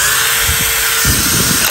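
A cordless three-function brushless drill driver with a hammer mode, model FX1251, runs continuously at high speed, giving a loud, steady motor whine close to the listener that stops abruptly at the end.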